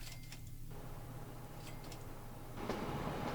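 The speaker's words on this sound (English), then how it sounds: "You wanted to follow the train." Steady rumbling train running in the Train Fever railway simulation game, a low continuous rolling drone with faint ticking clicks, growing slightly louder near the end, with no talking.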